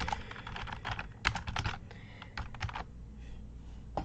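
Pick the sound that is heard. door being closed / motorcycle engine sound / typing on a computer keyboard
typing on a computer keyboard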